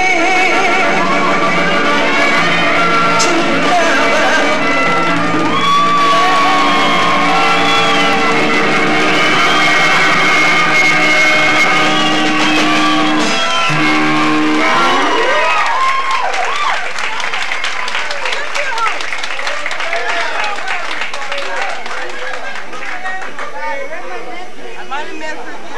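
An audience at a live soul concert cheers and applauds the band, a loud, dense wash of clapping and shouting that continues steadily throughout, with music fading out beneath it early on.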